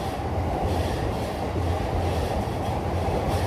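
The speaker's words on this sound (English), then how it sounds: "You can see the trains going by up above here." A train passes on elevated tracks in Tokyo, a loud, steady rumble and rattle of the railcars that runs for the whole stretch without a break. No one speaks.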